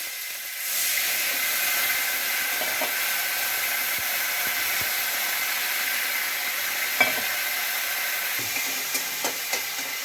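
Tomato cooking in a pan with water just added for a Bengali curd-eggplant dish, giving a steady, close sizzling hiss with steam throughout and a few faint stirring clinks, no talking.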